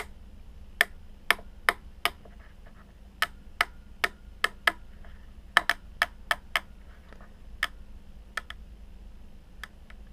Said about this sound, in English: Turn cap until clicking sound stops